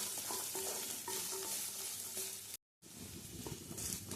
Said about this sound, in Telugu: పనసపిక్కలు అయితే వేగాయండి. కొబ్బరి ముక్కలు వేసుకుందాం. కాస్త వేగాక తీసేసుకుందాం.